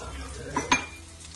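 Spoon stirring ginger garlic paste and turmeric in a frying pan, giving two brief scraping clinks against the pan over a faint low sizzle.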